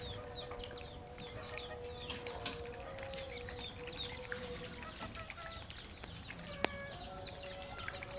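Chickens at a poultry farm cluck and chatter in a busy, steady chorus, with faint crowing and bird calls layered over a constant background hum.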